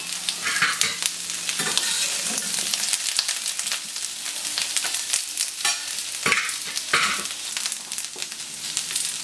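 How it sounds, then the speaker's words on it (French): Marinated beef pieces browning in olive oil in a pan, a close, bright sizzle with irregular bursts of stirring and spatula clatter throughout, no voices. "Et vous les faites dorer, enfin vous les faites revenir un petit peu"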